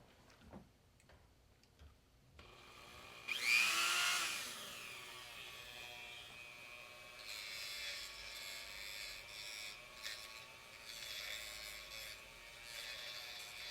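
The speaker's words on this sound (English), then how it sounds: "Is that grinding down your solder? It's polishing off" A small rotary tool polishes burned solder off a repaired sunglasses frame. After a quiet start, a sharp contact burst gives way to a steady, high, buzzing whine that continues to the end.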